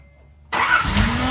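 A Nissan Z31 engine cranks after a half-second of near silence, a steady, loud mechanical churn of a car trying to start without catching, close by and with no voices.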